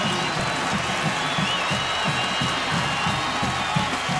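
Football stadium crowd at a Texas at Texas Tech game cheering and applauding in a steady, dense roar with scattered claps, heard from a distance and with no pauses.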